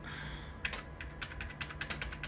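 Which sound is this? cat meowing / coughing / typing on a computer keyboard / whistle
typing on a computer keyboard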